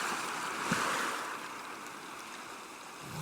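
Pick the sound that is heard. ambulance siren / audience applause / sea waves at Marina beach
sea waves at Marina beach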